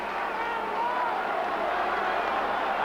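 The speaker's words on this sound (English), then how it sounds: "Listen to the crowd" Crowd at a 1996 WAFL grand final between Claremont and East Perth roars steadily and loudly, a dense sustained wall of cheering with no breaks.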